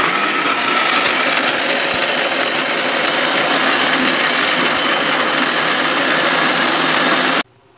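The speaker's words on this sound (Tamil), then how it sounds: "இதை நல்லா அரைச்சிக்கிடணும்." A mixer grinder blends coconut, cumin, curry leaves and coriander leaves with a loud, constant, close whirring roar that runs unbroken for about seven seconds and then cuts off abruptly.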